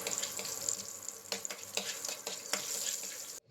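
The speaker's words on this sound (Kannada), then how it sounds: "ಉಳಿದ ವೆಜಿಟೇಬಲ್ಸನ್ನು ಹಾಕೋಣ." The remaining vegetables are tossed into a pan of frying capsicum, producing a soft, close sizzle broken by a few sharp clatters and stirring knocks before it stops suddenly.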